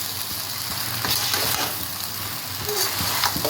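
Chicken chowmein noodles, Bengali style, are tossed and fried in a pan with two spoons, giving a steady close sizzle under light, irregular scraping and stirring clatter.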